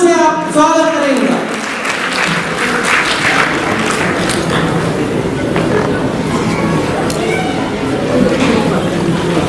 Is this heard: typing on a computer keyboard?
no